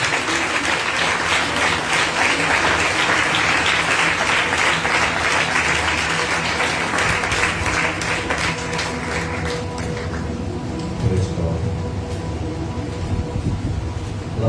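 A church congregation applauds a pastor with loud, dense, sustained clapping that fills the space, later thinning slightly as some scattered voices come through.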